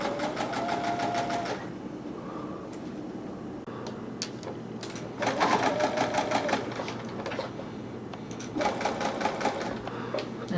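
A Bernina sewing machine runs a straight stitch on a flower pillow in three steady, rapid bursts, close and clear, with quiet pauses between runs.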